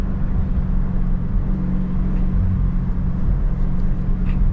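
A Dodge Last Call Scat Pack Widebody holds a low gear with the engine revving, giving a close, steady, heavy low rumble with a gritty throb and no clear peaks, heard from inside the car.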